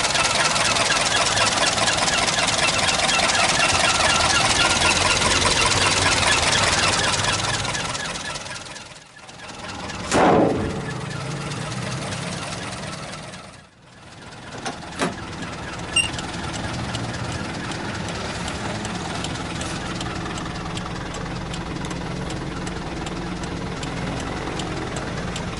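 A 1989 Toyota Kijang Super with a 1.5-liter 5K engine runs at a steady idle, a low continuous rumble with a couple of brief dips and small clunks partway through.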